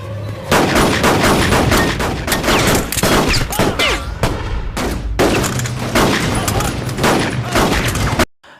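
A rapid burst of pistol gunfire, many loud sharp shots in quick succession with brief pauses, sounds like an intense firefight, ending abruptly into silence.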